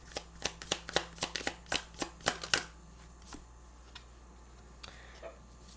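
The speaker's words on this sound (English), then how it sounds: "I'm going to grab a self-reflection card here." Self-reflection cards being shuffled in quick, crisp riffles, about a dozen sharp close bursts over the first half, then a few faint soft taps in a quiet room.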